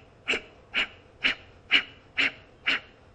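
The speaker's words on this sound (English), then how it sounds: "It's the fast breathing technique." Kapalabhati, a fast yogic breathing practice, heard as six sharp, evenly spaced nasal exhalations about half a second apart, close and steady against a quiet background.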